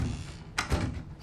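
A door in Resident Evil 7 pushed shut with one soft thud and a short creak, fairly quiet against low background hum, with no voices.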